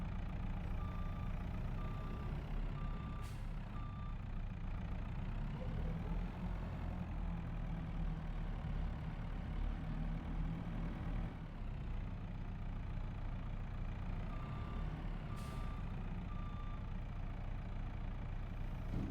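A farm loader's diesel engine idles steadily and close by after lifting heavy silage, a constant low rumble with no speech over it.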